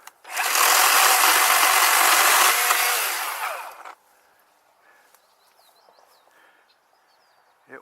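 A loud Worx electric chainsaw whirs at full speed for about three seconds, then cuts off, leaving quiet outdoor background with faint birdsong.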